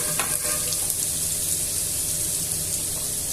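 Grated medium-cut carrot pieces frying in a pan for a Telugu carrot fry, a steady broadband sizzle holding evenly from start to finish with faint stirring underneath and no talking.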